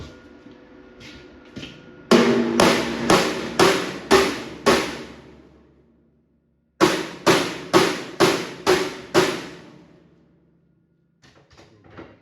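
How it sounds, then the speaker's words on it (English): Framing hammer striking metal on a 60 gallon air tank, two bursts of about six sharp ringing blows each in a steady rhythm, close and loud with decaying resonance between hits, then a few faint taps. "Grab a regular framing hammer."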